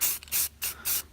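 Aerosol spray paint misting onto a vehicle exhaust in three close, loud hissing bursts separated by short pauses.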